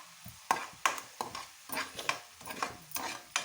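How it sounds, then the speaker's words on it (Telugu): Chicken pieces with curry leaves sizzle in plenty of oil for a hotel-style chicken fry curry, with a steady hiss broken by regular scraping stirs of a spatula against the pan, heard up close with no talk. "పీసులు వేసుకొని ఫ్రై చేసుకుందాం."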